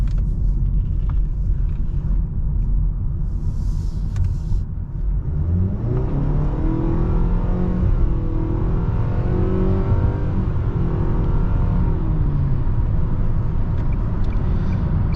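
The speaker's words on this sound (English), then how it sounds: "we'll go ahead and give the this Sentra another acceleration right here and see how it does" A 2022 Nissan Sentra with a CVT and simulated gear shifts accelerates hard in sport mode, its engine note rising in loud stepped sweeps over a constant road rumble.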